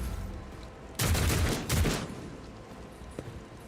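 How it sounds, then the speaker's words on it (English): Plasma cannon fire in the Warhammer 40000 Rogue Trader video game: two loud bursts of blasts in quick succession, each lasting about half a second, over faint background noise, followed by a small click near the end. "Okay, we're just gonna plasma cannon this guy."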